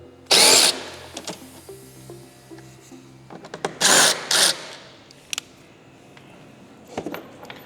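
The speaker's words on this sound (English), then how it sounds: "There's a T25 screw underneath, and it has 2 pop pins. So we'll take the screws out first." T25 screws are backed out of a motorcycle's speaker grills, with loud, short whirring bursts between quieter clicks and rattles of the tool and parts, close up and without talk.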